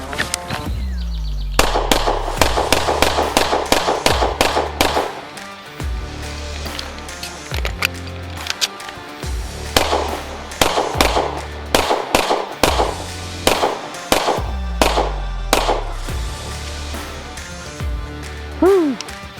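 Rapid strings of 9mm pistol shots crack loudly and close by, fired in fast bursts of several rounds with short pauses between volleys.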